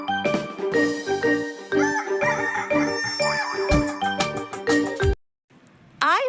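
A rooster crows loudly over a bouncy children's alphabet song with bright synth melody, followed by a short silence and then quick clucking hen sounds.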